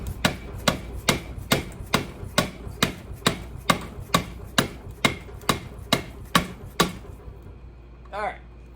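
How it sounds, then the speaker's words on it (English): A mallet taps repeatedly on Harley-Davidson Shovelhead transmission parts, about a dozen sharp, evenly spaced knocks close by, then a short pause and a brief rattle. "Use like a mallet or a block of wood."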